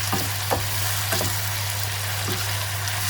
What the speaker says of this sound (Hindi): इसको मीडियम आंच करके मैं प्याज को बहुत अच्छी तरह लाइट ब्राउन करूँगी